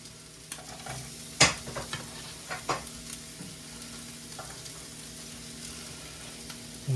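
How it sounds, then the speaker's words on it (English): Home-grown oyster mushrooms fry in a pan on raised heat, giving a soft steady sizzle with a few sharp clinks and scrapes of stirring near the start and no voices. "The second pan, we're ready to start frying these mushrooms up."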